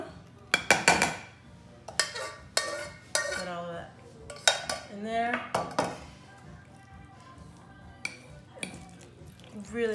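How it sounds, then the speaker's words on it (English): A whisk works cream into mashed potatoes in a pot, giving scattered metallic clinks and scrapes against the pot, with a voice speaking intermittently over them. "Alright, so I'm gonna add the rest of the cream to it."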